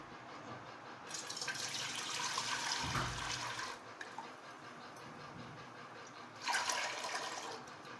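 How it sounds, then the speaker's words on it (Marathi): Water pours into a thick-bottomed pot as a steady, broad rush that runs for several seconds, breaks off briefly and then starts again. "आता याच्यात मी पाणी ओतून घेणार आहे"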